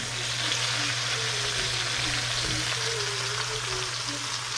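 Cabbage browns in a hot pan, giving off a steady, even sizzle with soft crackles and a low hum underneath, and no talking over it.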